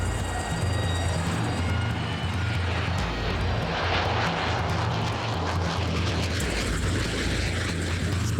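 A Navy jet from squadron VFA-25 flies over with a loud, steady broadband roar that swells slightly toward the middle and stays heavy throughout, with no voices.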